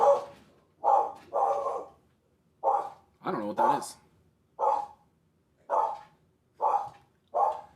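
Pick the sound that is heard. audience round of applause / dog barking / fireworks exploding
dog barking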